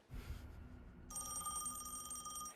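A telephone bell rings in a film scene, a steady bright trill starting about a second in after quieter background noise, fairly faint and without talk over it.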